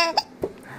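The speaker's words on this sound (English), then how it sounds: "Oh, hiccup." A baby gives two small hiccups close by, quick soft catches of breath less than a second apart.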